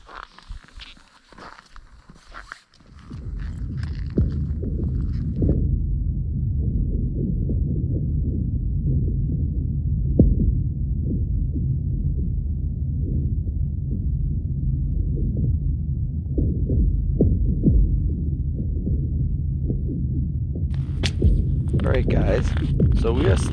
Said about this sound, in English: This is the ice actually. Now that the sun has disappeared, it's getting colder and now it's cracking with the temperature